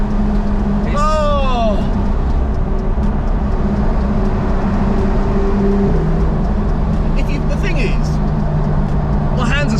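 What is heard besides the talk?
Porsche 911 GT3 RS Weissach engine with PDK gearbox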